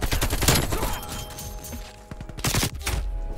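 Bursts of AK-47 automatic fire in a first-person shooter, several loud rapid volleys separated by short pauses, with game ambience between them.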